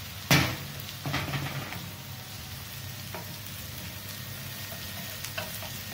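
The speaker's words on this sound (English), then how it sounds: "Sizzle, sizzle, pop, pop." Sliced chorizo sizzles in a hot pan, a steady soft frying hiss broken by a few sharp clatters and pops at the start and again later.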